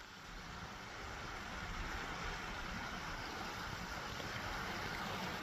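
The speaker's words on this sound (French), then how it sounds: "il y a une petite cascade juste là." A small waterfall pours into a canyon on ranch land, giving a steady, close broadband rush of falling water that holds even throughout with no voices.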